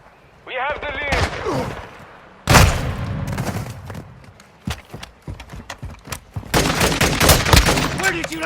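Gunfire in the video game Call of Duty: Modern Warfare 2, with loud bursts of shots and rapid fire breaking out in clusters and a sustained barrage near the end, mixed with game voices and effects.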